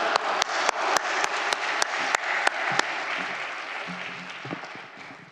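A church congregation claps together in a steady, loud unison rhythm to welcome a pastor, then the beat breaks into looser scattered applause that slowly fades.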